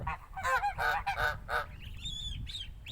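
Geese honk loudly and nearby in a short run of nasal calls, followed by softer high-pitched peeping from goslings with the flock.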